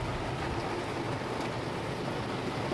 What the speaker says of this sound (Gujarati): વરસાદ બહુ પડે હે